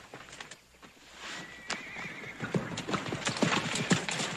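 Horse hooves clip-clop at a steady walking rhythm in a Western setting, with a single clear neigh rising midway through; the hoofbeats are fairly close and sound alone with no talking.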